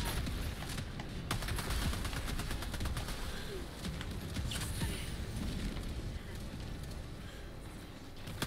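Sustained gunfire rattles through a co-op battle in the shooter Helldivers 2, rapid automatic bursts and sharp individual shots repeating steadily over several seconds amid chaotic combat noise, with voices talking faintly underneath.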